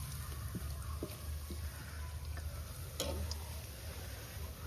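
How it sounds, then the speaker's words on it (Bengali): Snakehead fish frying in a pan gives a faint, steady sizzle, with a few soft clicks and taps scattered through it and no voices. "এদিকে এখনো ভাজা হচ্ছে।"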